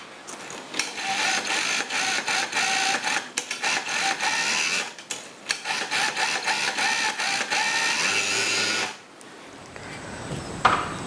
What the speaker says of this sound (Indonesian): Sebelum dijahit, bagian pinggiran ini kita obras dulu bagian sisi ini.